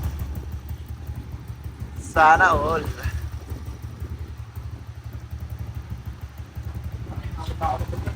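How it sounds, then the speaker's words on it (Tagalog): A modified Yamaha Aerox scooter engine idles steadily on its first start with a low, even putter, close by, while a voice briefly cuts in over it. "First start sa kargadong makina."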